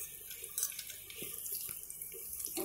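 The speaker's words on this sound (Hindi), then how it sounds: "अब ऑयल तेज हो गया है, अब हम इसमें प्याज डालते हैं अभी" Onions go into hot oil in a kadhai wok for kadhai paneer, producing a steady hissing sizzle with crackly pops up close and no talking over it.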